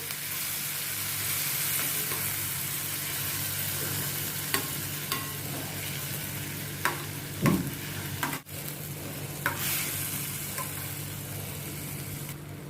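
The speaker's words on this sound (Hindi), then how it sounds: "टमाटर और अनियन को मैं अभी मिक्स करती हूँ।" Chopped tomato, onion and grated green chili stirred in a hot pan for masala baingan, a steady close sizzle with occasional scraping clicks of the spoon across the pan, no talking.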